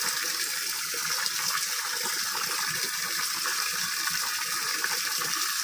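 Rice seed being stirred by hand in a basin of water to sort full grains from empty ones, giving a steady sloshing, gushing water sound at close range throughout, with no voices.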